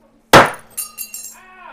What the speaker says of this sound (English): we're gonna smash it with a whatchamacallit? A hammer.